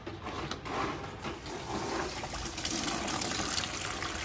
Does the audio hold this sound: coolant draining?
yes